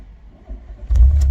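An MK3 Volkswagen Golf Cabrio engine starting: a brief cranking rumble, then a loud, close catch into a steady low idle, with no talking.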